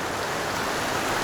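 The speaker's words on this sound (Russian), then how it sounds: "Достаточно бурная вода здесь." Turbulent river water rushes at the confluence of two tributaries in a mountain valley, a dense, steady roar of broadband noise filling the scene with no pauses.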